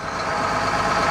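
Cummins 10.3 litre diesel engine in an AEC Routemaster London bus, a steady, loud mid-pitched drone heard from inside while driving.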